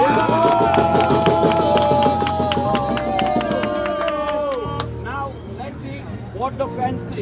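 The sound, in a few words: Indian cricket fans clapping and cheering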